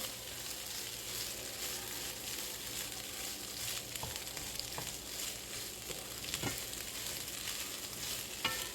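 Mixed vegetables for vegetarian fried rice fry in a pan with a continuous soft sizzle, plus occasional light knocks, heard close but quietly, alone without speech.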